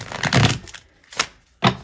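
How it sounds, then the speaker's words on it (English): A fairly new tarot card deck being shuffled in three quick riffling bursts, the first longest and densest, with short pauses between, close up with no talking. "Just going to shuffle one more time so that"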